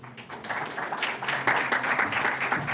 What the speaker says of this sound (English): please welcome the stage and a round of applause